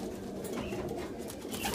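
Racing pigeons cooing in a loft, soft low coos layered together close by, fairly quiet and continuous with light rustling.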